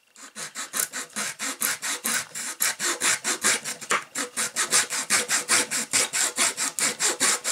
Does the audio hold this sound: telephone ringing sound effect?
no